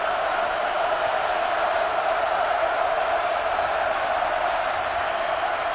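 Roaring stadium crowd at a TCU versus Iowa State college football game, a steady, dense wall of cheering and noise that holds loud and unbroken throughout.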